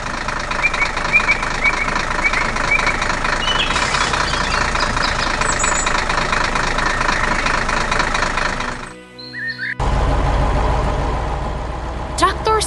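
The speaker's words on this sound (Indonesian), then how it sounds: "Traktor merah sedang mengebor tanah di hutan, membuat lubang besar di bawah tanah." A cartoon red tractor drilling into forest ground gives a steady, loud engine drone with knocking texture that briefly cuts out near the end before resuming just as strong.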